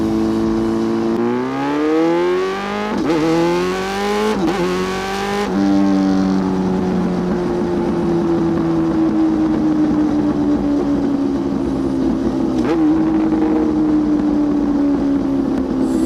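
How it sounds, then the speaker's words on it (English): A loud Yamaha R6 sport motorcycle roars close up, revving hard through rising and falling engine pitch in the opening seconds before settling into a sustained, aggressive high-rpm drone while riding. "I'm so happy my bike is loud."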